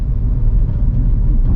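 A car engine rumbles steadily at low revs around 2000 RPM while the car is driven in gear, a close, even drone with no talking.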